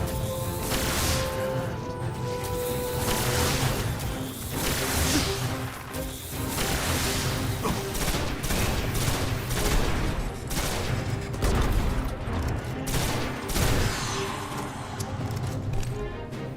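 Fusion rifle bursts and other weapon fire in the Destiny 1 video game, dense and loud with repeated crackling blasts and whooshes running almost continuously throughout.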